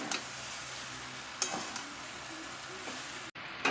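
Prawn and jackfruit curry sautéing in a pan, a steady close sizzle with a few spatula scrapes and stirring knocks, no talking.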